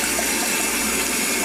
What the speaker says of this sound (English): Get some water on the go.